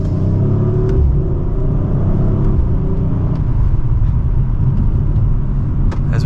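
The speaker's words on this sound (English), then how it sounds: "And from second gear, here we go." A 2024 Audi RS5 Coupe Competition accelerates hard from second gear, its engine and exhaust a loud, steady rumbling roar heard from inside the cabin, rising slightly in pitch with no talking.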